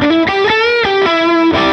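An electric guitar plays a few distorted, sustained notes through a Line 6 Helix amp modeler with hum, ripple and sag added, with a buzzy, gritty tone and short strums between held notes.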